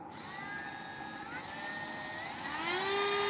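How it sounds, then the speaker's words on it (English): A cordless Dremel rotary tool runs close by with a steady high whine. Its pitch climbs as the motor speeds up toward the end. "It is a cordless Dremel."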